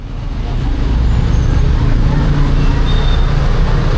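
A tour bus pulling up before dawn to collect passengers for a Semeru trip, its engine a steady, loud rumble mixed with road noise throughout.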